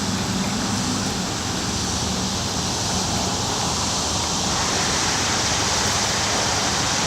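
Someone wades back through deep drainage water about 26 inches high, a steady close rushing and sloshing wash that carries on without a break.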